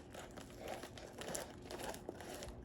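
Plastic packaging around a slime being cut and opened, giving continuous close crinkling and crackling with small tearing sounds over about three seconds.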